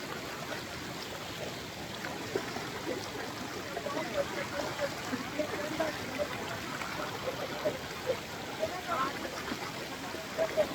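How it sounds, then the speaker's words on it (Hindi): A cold mountain stream near Dudipatsar Lake rushes steadily as people wade across, broadband water noise running throughout with faint voices underneath. "अब हम इस पानी को क्रॉस करेंगे जो कि बहुत मुश्किल है"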